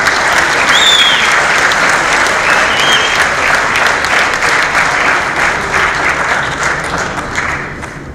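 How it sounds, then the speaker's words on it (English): A large audience at a graduation ceremony in Dubai claps steadily for a student council speaker, a loud, continuous wash of applause that fades gently near the end, with a few faint high whistles or squeaks mixed in. "A round of applause."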